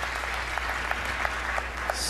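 Crowd cheering and clapping at a professional ten-pin bowling match, a steady wash of applause with scattered sharper claps and shouts, moderately loud and continuous throughout.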